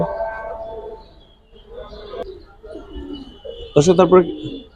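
Pigeons, giribaz high flyers, coo nearby, soft throaty calls scattered through the clip, ending in a louder burst of rolling coos.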